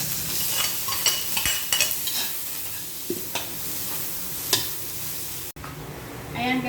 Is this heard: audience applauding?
no